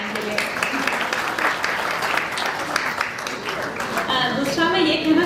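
Audience applause at a hospital seminar in Ludhiana: dense, steady clapping from a room full of people that holds at an even level for about five seconds.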